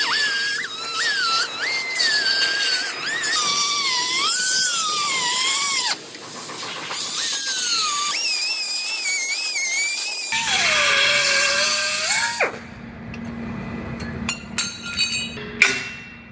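Cutoff wheel trimming the cross member on a Jeep frame, a loud sustained high-pitched grinding whine that rises and falls as the disc bites into the steel, ending with a few sharp clanks.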